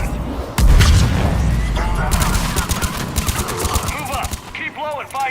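Heavy mounted gun fire in Mass Effect 3 during a combat drop with shuttles approaching, a loud, dense burst of rapid booming shots from the start that continues under voices shouting.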